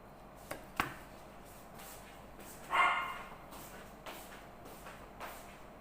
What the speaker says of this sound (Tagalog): Ingay ng aso namin guys.